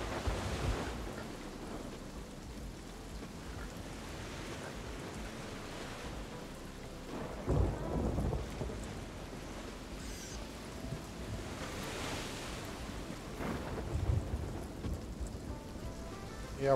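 Steady rain hiss with low rumbling swells of thunder during a storm, broadband and continuous, with a few louder rolls standing out from the constant downpour.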